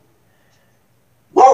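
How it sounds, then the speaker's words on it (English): A dog standing at a door lets out a single short bark at the very end after near silence, close and loud. "she's just standing at the door barking"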